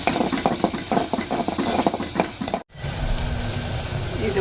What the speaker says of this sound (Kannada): ಇದು ಉಳ್ಳಾಗಡ್ಡಿ ಎಲ್ಲ ಚಲೋ ಫ್ರೈ ಆಗತ್ತವು